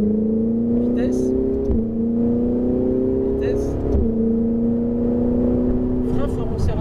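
A Ferrari 488 GTB with a 670 hp engine accelerates hard on a racing circuit, its loud, steady engine tone climbing in pitch with brief dips at gear changes, close and continuous.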